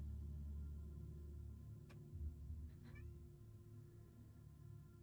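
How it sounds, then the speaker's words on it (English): In a game scene, a cat yowls at the door, two short, faint cries over a low, constant background hum. "It's my cat at the door screaming again."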